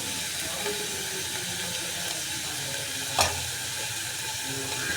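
Onions fry in oil and ghee with a continuous close sizzle and hiss, broken by one brief sharp scrape of stirring partway through.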